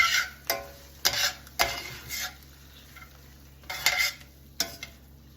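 A spoon stirs onions and apples with fresh herbs in a pan, giving several separate scraping strokes over a faint sizzle, close up and without talk.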